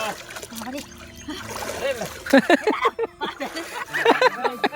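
Water splashes as people take a dip in the Ganges during Ashtami puja, with bursts of splatter and sloshing mixed under lively nearby talk.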